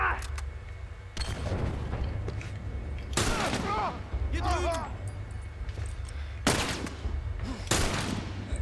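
Several loud rifle shots in the video game The Last of Us Remastered, sharp cracks spaced a few seconds apart over a steady low rumble, with someone talking in between.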